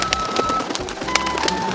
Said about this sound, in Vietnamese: Chim kìa, con đấy con gì?